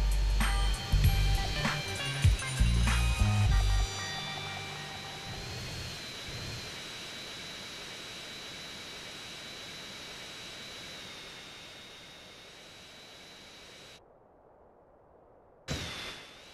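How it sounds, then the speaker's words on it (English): An airplane comes in to land in GTA San Andreas. A few heavy clunks come first, then a steady, loud jet whine with a sustained tone that slowly fades before cutting off, and a short burst returns at the end. "This is flight CJ-101 out of Liberty City, requesting final approach to Los Venturas International."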